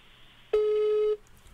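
A single steady telephone ringback tone sounds for about half a second, clear and close, during a prank call to a number that goes unanswered, with quiet line hiss before and after.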